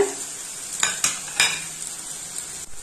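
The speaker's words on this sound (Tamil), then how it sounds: "வெங்காயம் லைட்டா வதங்கிடுச்சு" Onions and curry leaves sauté in a pan, a bright steady sizzle close by, broken by a few sharp scrapes and clinks of a spoon stirring against the metal.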